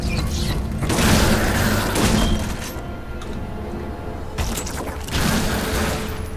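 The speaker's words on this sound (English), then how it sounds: "Oh, those ones explode too." Enemies exploding in Lara Croft and the Guardian of Light: two loud, roaring blasts, each lasting about a second, with mechanical clatter and debris between them.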